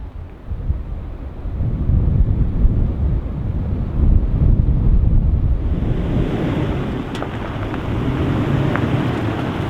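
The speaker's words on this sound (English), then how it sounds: "we got some pretty high winds moving in" Strong wind gusts roar through a desert canyon, buffeting the microphone in loud, surging waves that swell and ease, with no one speaking.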